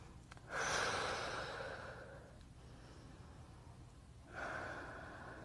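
Slow, deep breathing during a yoga stretch for the hamstrings and lower back: two long, airy breaths close to the microphone, each swelling and then fading, with no talking.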